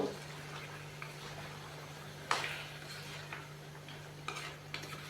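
Beaten yogurt is stirred into sliced potatoes in a pan, with soft scraping and occasional spoon clinks over a steady low hum.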